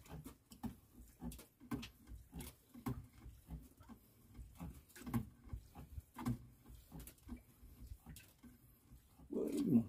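Rain patters steadily on a fishing boat at sea, scattered close sharp taps and drops falling in an irregular rhythm over a low steady hum, with muffled voices at times and a louder thump near the end.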